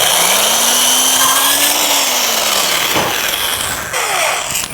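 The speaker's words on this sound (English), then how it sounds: "I'm using this small drill. It's typically called a pilot drill." A small pilot drill bores steadily into the wooden shell of a dhol drum, a loud continuous whirring grind with a slight pitch drift and brief dips as the bit works through the wood.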